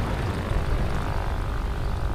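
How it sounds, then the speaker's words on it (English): The P-12, an American tier 1 biplane fighter in World of Warplanes, droning with a steady, loud propeller engine roar that holds constant throughout. "This is my P-12, the American Tier 1 fighter plane."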